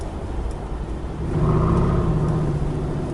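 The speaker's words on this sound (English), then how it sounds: "If I put the window down, you can hear some of the engine roar there." A Mercedes G500 4x4 Squared's steady engine roar with a low rumbling drone, swelling a little louder partway through as it pushes on, heard from inside with the window down and some wind.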